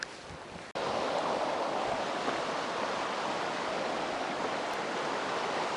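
Steady rushing water of the Bystrzyca river in Wrocław fills the air, a continuous broadband wash without pauses, close and even in loudness after a brief quieter start.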